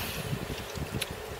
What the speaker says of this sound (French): Je savais qu'il y avait du vent.